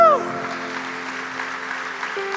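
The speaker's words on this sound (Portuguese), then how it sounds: "Aplauda o nome dEle." A church congregation applauding, a dense, steady wash of clapping sustained throughout, with a lingering organ or keyboard tone underneath.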